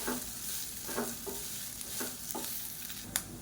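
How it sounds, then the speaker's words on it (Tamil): Kozhukattai dumplings stirred through hot oil in a pan give a soft steady sizzle, broken by several scraping strokes of the spoon and a light clink near the end. "இப்போ இதில் நம்ம வேக வச்சு வச்சுருக்க இந்த கொழுக்கட்டையை சேர்த்துக்கலாம் சேர்த்துட்டு நல்லா பரட்டி விட்டுக்கலாம்"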